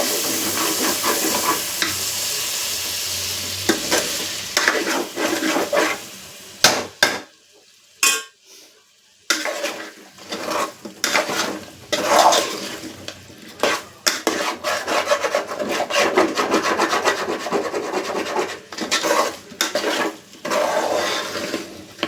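A spoon stirs and scrapes food in a pan through a home cooking session, with repeated scraping strokes and a brief quiet gap midway, no talking.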